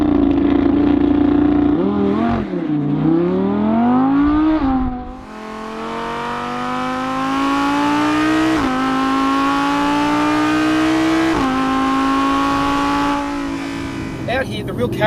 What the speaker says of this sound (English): the big V10 can really be unleashed